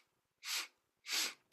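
Two sharp, forceful sniffs breathe air in through the nose during a breathing exercise, each about a quarter second long, close and loud, with silence between them.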